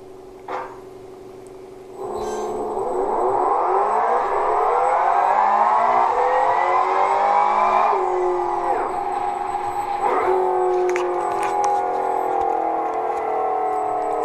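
Industrial electric motor run by an SEW Eurodrive Movitrac B inverter drive, producing a loud rising whine that sweeps up in pitch as it accelerates, then holds a steady high tone, with faint clicks and no talk.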